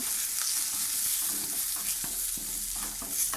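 Onions and chillies fry in a pan at home, giving a constant close sizzle with soft scraping from stirring and occasional light taps of a utensil.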